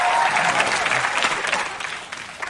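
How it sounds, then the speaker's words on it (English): Studio audience applauding during a comedy sketch of a political celebrity game show, a dense burst of loud clapping that gradually tapers off. "Are we clapping this hard for Bill Clinton right now?"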